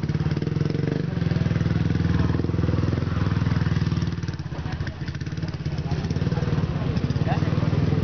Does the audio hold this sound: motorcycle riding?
yes